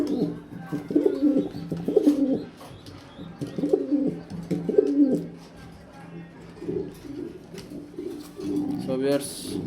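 Pigeons coo nearby in repeated, low, rhythmic phrases in several bursts, with quieter gaps between them and a brief higher noise at the end.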